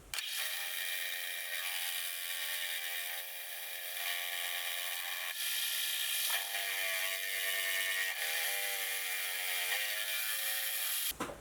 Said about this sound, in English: so I'll get that fly cut